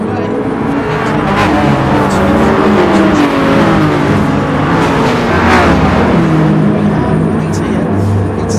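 BMW and Mercedes-AMG race cars pull away from a standing start at the Nürburgring Nordschleife in a racing video game, engines loud and continuous with rising revs, while a commentator talks over them.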